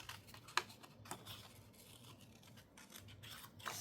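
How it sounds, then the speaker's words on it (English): Easy-action Fiskars scissors fussy-cut small paper images: soft, close snips and rustling paper, quiet, with a few sharper clicks and no voices. "So I'm going to get my easy action Fiskar. I call these fussy cutting things."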